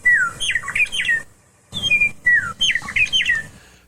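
Meadowlark singing on the prairie: two clear phrases of bright, slurred whistles and warbling notes, close and loud, separated by a brief pause, with no voices.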